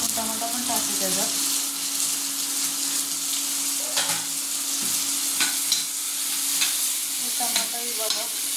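Chopped tomatoes and onions sizzle and fry in a pan, a steady close crackle with occasional stirring scrapes and faint clinks of the spoon, and no talking over it.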